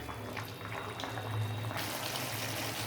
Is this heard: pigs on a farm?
no